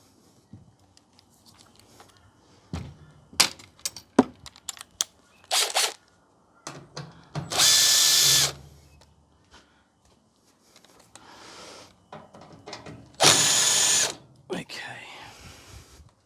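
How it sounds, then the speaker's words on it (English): A power drill backs screws out of the side panel of an Electrolux Westinghouse clothes dryer, giving two loud whirring bursts of about a second each, separated by softer clicks and handling noises. "I'm just going to undo these screws on the side for this computer"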